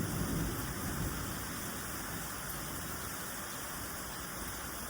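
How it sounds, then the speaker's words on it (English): Steady rain pours down without a break during a thunderstorm, filling the whole span as a dense, even hiss with a low rumble underneath and no voices. "the rain and the lightning and the thunder is like, put your computer away"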